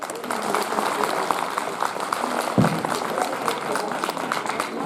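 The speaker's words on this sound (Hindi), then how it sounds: "लेकिन आपकी तालियों में भी तो शोर होना चाहिए।" Audience applause at a school annual function, a steady broad wash of clapping with crowd noise and voices mixed in throughout, fairly close and continuous.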